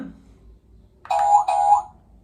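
A toy phone gives a short two-part electronic alert tone for an incoming message, close and fairly loud after a quiet moment, with no speech.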